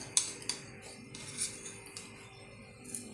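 A spoon scrapes and clinks against a bowl while stirring sweet potato roll filling, with several sharp metallic taps among soft rubbing strokes, close and unaccompanied by talk.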